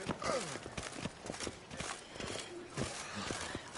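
Horse hooves clip-clop steadily as a horse is ridden slowly through Toussaint in The Witcher 3 on PS5, a continuous rhythm of footfalls mixed with game ambience and voices.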